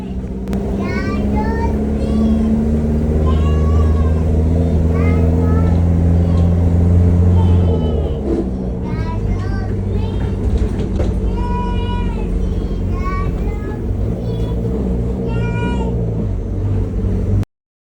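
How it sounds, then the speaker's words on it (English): Cats at a relative's home in Jamaica meow repeatedly in short rising cries, close and frequent over a steady engine-like rumble, with a voice chattering in between. "Araya and Ariella decided they wanted to start the day by visiting our aunt and uncle's cats"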